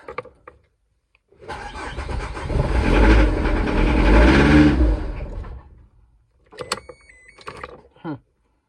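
A 2001 Citroen Jumpy with a DW8 diesel engine cranks, catches and runs with a loud close rumble that swells then fades into a short stop, followed by brief mechanical clicks and clunks.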